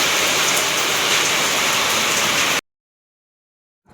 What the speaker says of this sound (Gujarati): જો વરસાદ ફૂલ આવવા મળ્યો।